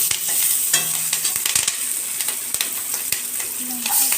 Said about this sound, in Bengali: পেঁয়াজ রসুনটা ভাজা ভাজা হয়ে গেলে এবার শাকগুলোকে মধ্যে দিয়ে দিলাম।